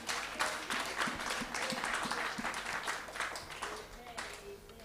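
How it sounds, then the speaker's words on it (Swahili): Church congregation applauding at a Sunday service, a dense, steady wash of many hands clapping close by that thins slightly toward the end. "Makofi."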